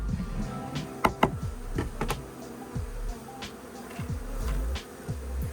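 Honeybees at a hive damaged by rats hum in a low, continuous drone, with individual bees buzzing close past in brief louder swells over a faint background.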